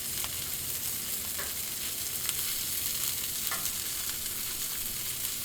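Shrimp frying in oil on a Blackstone griddle, a steady close sizzle with small crackling pops running throughout, no voices.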